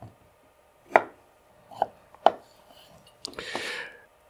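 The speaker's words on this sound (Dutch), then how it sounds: "ga ik vast even wat groentjes snijden" Three sharp knife chops through a thick winter carrot on a cutting board, spaced unevenly, followed by a brief scraping sound, close and clear with no talking.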